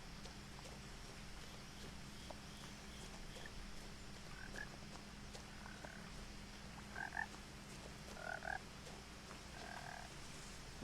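Frog croaking in the video game What Remains of Edith Finch: a few short, clear croaks in small clusters rise above a soft, steady outdoor ambience, with no one talking.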